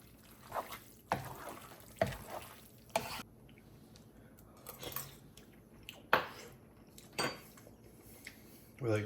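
Cabbage roll mixture with rice being stirred by hand in a pot during backcountry freeze-dried meal prep, with irregular wet clacks, squishes and knocks against the pot every second or so, close up.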